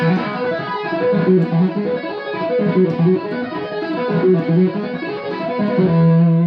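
Fast, rippling electric guitar notes with heavy distortion, played in quick repeating tapped patterns that cycle steadily before landing on a held note.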